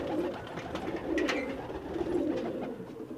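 Old-breed coloured pigeons kept by a fancier in Peshawar coo in low, throaty rolls, a steady murmur of overlapping calls close by, several pigeons together, without speech.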